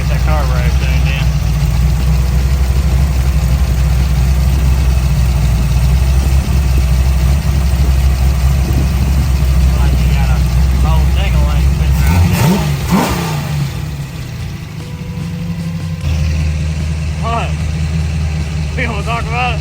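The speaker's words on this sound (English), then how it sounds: "Try to get that carburetor tuned in." A 1980 Camaro with an LS engine swap runs at a track during carburetor tuning, idling loud and close with a heavy, lumpy low rumble and a brief rev partway through, while voices talk over it.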